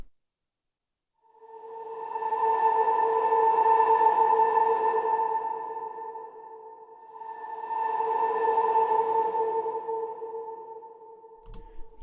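A granular synth patch from the Tape Rooms library plays two long, swelling tonal pads with a soft attack, washed in plate reverb and delay. Each pad holds sustained hollow pitches before fading, with a small click at the very end.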